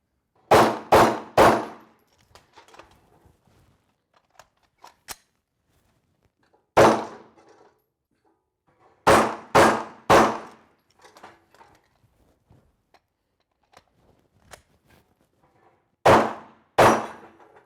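Pistol shots on an outdoor range, fired one-handed in quick bursts of two or three with long pauses for reloading. Faint clicks and handling noises of a magazine change fill the gaps between the loud, sharp reports.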